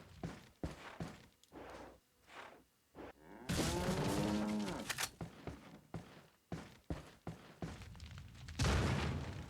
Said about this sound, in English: can I kill the cows?